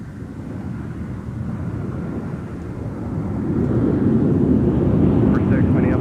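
A jet airliner takes off from a runway at Minneapolis–Saint Paul airport, its broad engine roar building steadily louder toward the end, heard from a distance outdoors with a faint voice underneath.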